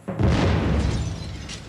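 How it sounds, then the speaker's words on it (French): A bomb hidden under a bed detonates, a loud, close boom with a sharp burst that rolls into a long, rumbling decay of debris and noise. No voices are heard. "il déclenche l'explosion d'une bombe placée sous son lit"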